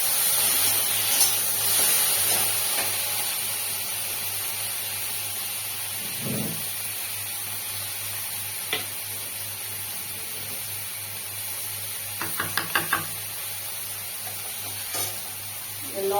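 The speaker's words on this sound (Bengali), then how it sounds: "এবার লতিটাকে একটু নাড়বো।" Taro stolons fry in a wok after a mustard-seed tempering, giving a steady soft sizzle and hiss with a few brief scraping stirs of the utensil near the end, and no one speaking.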